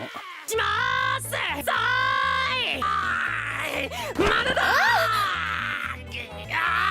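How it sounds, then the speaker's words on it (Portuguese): A harsh, forced, strained scream from the anime character Asta in the Portuguese dub of Black Clover, long and loud with cracking vocal pitch, over a steady rhythmic music backing. "você sente como se as cordas vocais do dublador estivessem tremendo, estivessem prestes a arrebentar de tão forçado que é aquele grito"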